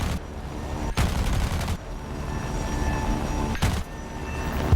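Bf-109 guns in War Thunder air combat fire in two loud sustained bursts, the first longer and the second brief, over a steady droning engine hum.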